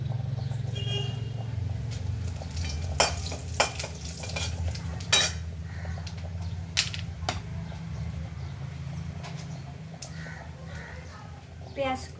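Dried red chillies, bay leaves and cumin seeds tempering in hot oil in a pan, a steady sizzle over a low background hum, broken by a few sharp clinks of utensils against the pan.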